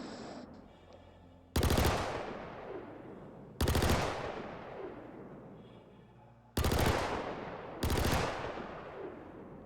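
A Klaus and Werner Lumin V SMG fires in the video game Star Citizen in four loud, sharp bursts, each followed by a long fading echo tail.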